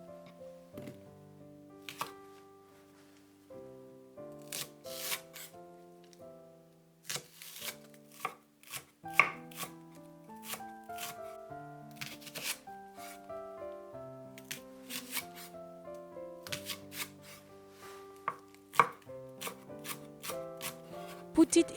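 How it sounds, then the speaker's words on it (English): A knife minces a green onion on a cutting board, with rapid, irregular chopping taps in close bursts over quiet background music. "Mince 1 green onion"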